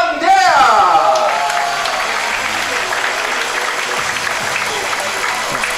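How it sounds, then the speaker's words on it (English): An audience at a 10m air rifle women's final at a junior world shooting championship breaks into loud applause that settles into steady clapping, with an announcer's voice over the top. "big cheer for her from the audience"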